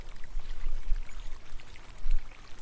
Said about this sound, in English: He lifts a section slightly, allowing water to drain back into the pool with a steady dripping sound.